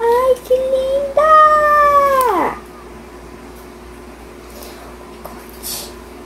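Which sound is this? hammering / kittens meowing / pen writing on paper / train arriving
kittens meowing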